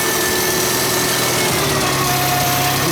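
A Farmall International Cub tractor with a 6-volt electrical system idles steadily up close, its engine giving an even, continuous drone with no breaks.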